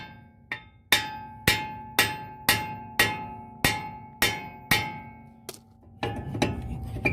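Nine sharp metallic clangs from a hammer striking a front brake rotor on a 2019 Ford Expedition Max, struck at a steady rhythm, each ringing briefly before the next, close and loud.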